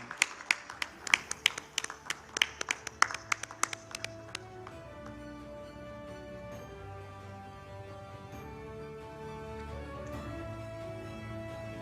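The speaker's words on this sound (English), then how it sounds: "Huge round of applause for Pramit Sen." Audience applause at a health and wellness summit: a burst of sharp claps for about four seconds, then giving way to a steady musical bed, fairly loud and up close.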